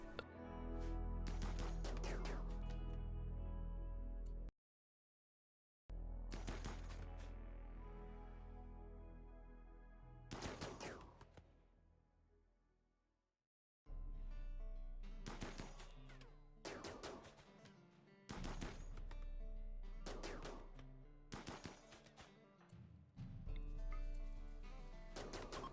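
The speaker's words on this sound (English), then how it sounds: "and then they open fire on the bandits." Rapid bursts of gunfire in the colony-sim game Rimworld as colonists open fire on a bandit camp, loud repeated volleys in clusters separated by brief silent gaps, no voices.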